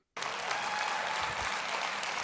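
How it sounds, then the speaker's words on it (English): Steady, even applause from a crowd, heard at a distance and fairly faint, starting abruptly after a brief silence and holding without pause. "What are you applauding?"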